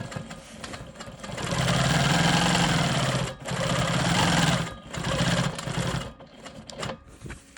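A Quilt Maker Pro 20 sewing machine hums steadily while quilting smoky swirls on a narrow rectangle. The whirring motor runs in several bursts with short pauses between them and is heard up close without talk.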